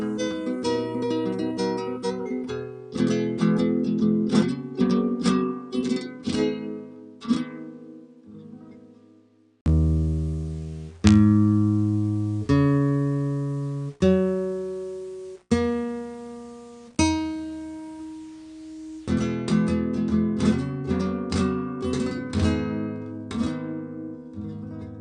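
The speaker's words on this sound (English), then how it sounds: "that guitar just projects and sounds so amazing, and it's so responsive" A Gibson Stereo Switchmaster semi-acoustic guitar played alone and close, with ringing chords and picked notes that sustain and decay, moving between strummed passages and slower single struck chords.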